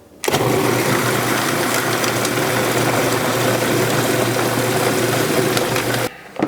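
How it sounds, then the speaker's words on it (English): A blender whirring through diced watermelon, a loud steady motor roar that starts abruptly, holds constant for about six seconds, then cuts off. "We're gonna blend this up and then we're gonna strain it to get all of the fiber out."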